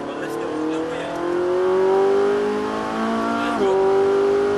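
A Ferrari 458 Italia on a track accelerates hard, its engine note climbing steadily through the revs, with a brief shift dip, then pulling again near and loud.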